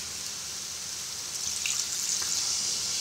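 Milk poured into a frying curry of soybean, potato and pointed gourd, with a steady hissing sizzle that swells and roughens midway as the liquid hits the hot spices.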